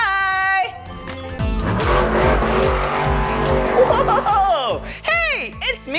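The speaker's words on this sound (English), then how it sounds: "Sounds like a monster truck." A monster truck engine revs in deep, roaring surges with rising and falling pitch and squealing sweeps, loud and close, followed by an excited voice at the end.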